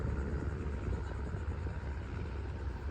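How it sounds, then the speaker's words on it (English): A small plane drones overhead outdoors, a steady low rumbling engine hum that holds level throughout without voices. "So this is a little plane actually"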